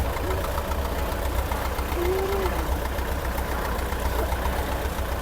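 A tractor engine idles with a steady low rumble and rhythmic knocking, continuous and moderately close, with a brief faint voice in the background.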